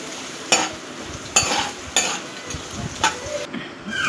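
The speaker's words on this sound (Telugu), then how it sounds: "ఆనియన్స్ వేసి ఆనియన్స్ కూడా ఫ్రై అయిన తర్వాత" Onions fry with biryani spices in a pan, giving a steady close sizzle broken by four sharp scraping stirs spaced about a second apart, with light utensil clinks and no talking.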